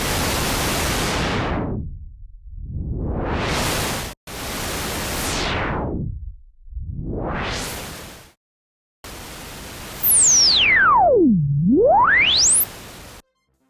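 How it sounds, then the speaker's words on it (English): Pink noise from a Model 72 modular synthesizer is swept through a resonant filter, rising and falling in long whooshing arcs, with a final pass where the resonance sings as a clear whistling tone gliding down and back up. "listen as I do the same thing with pink noise, which has a different quality and in many ways is more musical."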